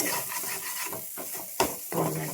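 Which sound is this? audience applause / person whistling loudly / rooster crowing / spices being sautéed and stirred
spices being sautéed and stirred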